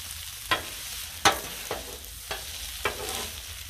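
Shrimp fried rice sizzling on a Blackstone griddle while two spatulas stir and scrape it, sharp metallic clacks landing roughly every half second to second over a low continuous frying hiss, close up with no voices.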